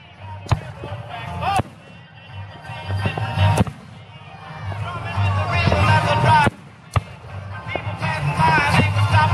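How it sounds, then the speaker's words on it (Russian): Independence Day fireworks in the US burst at close range near the launch battery, several sharp loud bangs spaced a second or more apart over a continuous crackle and rumble, with people talking in the background. "Это всего лишь салют."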